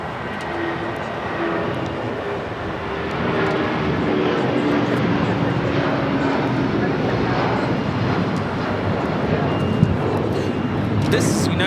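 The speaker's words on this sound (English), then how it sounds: "This is United Airlines 678 taking off to Newark on a 757-200" A United Airlines Boeing 757-200 takes off from LAX, its engines a sustained broad roar building in the middle distance, with people talking in the background.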